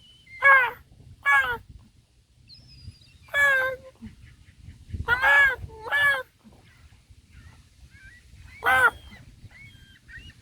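Seagulls at a beach call in loud, harsh, nasal bursts, several calls in quick pairs spaced over several seconds, close by, with wind in the background.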